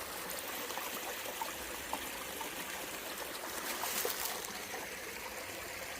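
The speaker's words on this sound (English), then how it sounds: "Water's running down that way." A steady, gentle trickle of stream water running along the Washburn Trail on the Broad River Greenway, continuous and fairly soft, with no voices.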